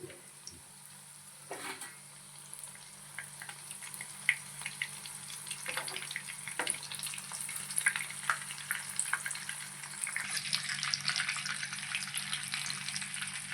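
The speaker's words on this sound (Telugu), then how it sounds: "బాగా రొయ్యంతా కూడా బాగా వేగాలన్నమాట" Prawns deep frying in oil, a steady crackling sizzle that swells louder toward the end, with a few clinks of stirring and no voices.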